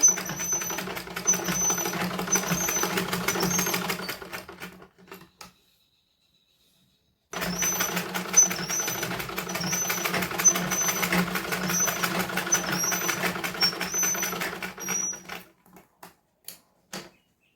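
A sewing machine stitches the hem of a blouse in two long, steady, close-up runs separated by a silent pause, then ends with a few brief stitches.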